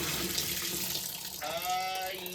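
An LG 7400 washing machine fills with water, a steady broadband rush of inflow running throughout with a faint rising tone near the end, heard close and continuous.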